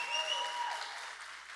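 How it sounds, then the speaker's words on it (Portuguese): A church congregation applauding, a broad steady wash of clapping from a crowd, fairly distant in a reverberant hall, briefly heard alone. "Um aplauso para a EAPL,"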